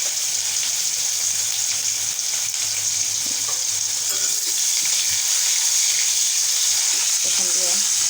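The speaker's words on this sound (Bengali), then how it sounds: "যখন ভাজা ভাজা হয়ে আসছে দিয়ে দেবো পেঁয়াজ কুচি" Cumin, bay leaves, whole dried chillies and chopped onion sizzle and spit steadily in hot oil, a dense continuous frying hiss with occasional stirring scrapes and faint voices in the background.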